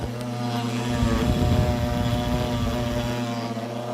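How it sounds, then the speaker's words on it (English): A failing spindle on a CNC machine runs with a steady, droning whine layered with harmonics, holding constant at close range with no talking. "my CNC spindle is dying."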